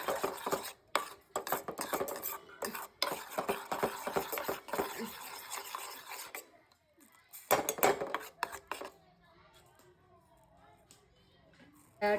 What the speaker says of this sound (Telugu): ఈ బీట్రూట్ మొత్తం రా స్మెల్ పోయేంత వరకు సిమ్లో పెట్టి వేయించుకోండి